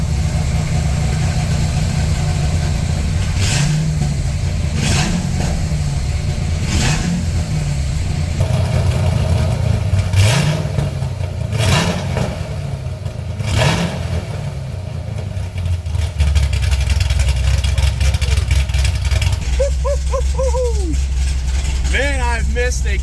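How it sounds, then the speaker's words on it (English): Cammed LS7 V8 in a C6 Corvette Z06 idling with a deep, lumpy rumble, close and loud, with a few blips of throttle and people talking over it. "Man, I've missed a cammed LS7. It's got such a unique sound."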